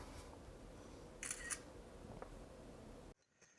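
A Blackview BV6600 rugged smartphone fires its camera shutter for a selfie: a quick double click over steady room hiss, followed by a sudden drop into near silence.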